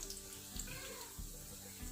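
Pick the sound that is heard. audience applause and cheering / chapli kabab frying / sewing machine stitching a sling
chapli kabab frying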